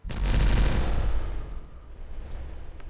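An explosion in the Timberborn city-building game: a single loud, deep boom that starts abruptly, rumbles for about a second, then fades into a low lingering tail.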